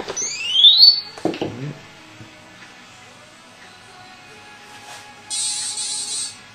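A Gaui 255 RC helicopter's radio transmitter is switched on, giving a few quick rising chirps and then a short, steady electronic beep tone. The room around it is otherwise quiet.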